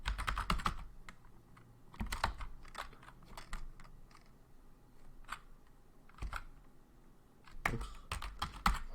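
Close-up typing on a computer keyboard, irregular clusters of rapid key clicks separated by short pauses.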